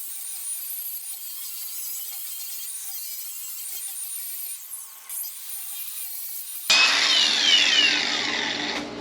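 A power tool cuts through the exhaust pipe of a 2019 supercharged Toyota Tacoma during a muffler swap, a steady high-pitched grinding that runs for several seconds and then turns harsher and louder near the end.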